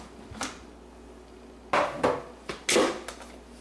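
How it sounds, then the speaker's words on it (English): Pizza dough for cheese pizza is kneaded into a ball on a dry surface, giving soft thumps and slaps as it is pressed and turned, in irregular bursts close by. "We're going to knead it into a ball and get it into our bowl to rise."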